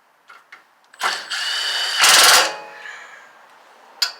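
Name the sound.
power drill driving self-tapping screws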